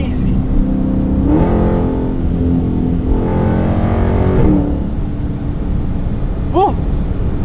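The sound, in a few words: Dodge Challenger SRT 392 Scat Pack engine revving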